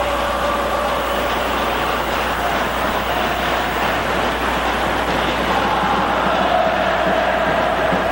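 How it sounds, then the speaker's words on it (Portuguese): A dense, steady roar of a large Vasco da Gama football crowd fills a stadium at a 1981 Brazilian championship match against Internacional, loud and continuous throughout with no clear breaks. "Muita vontade a torcida do Vasco da Gama."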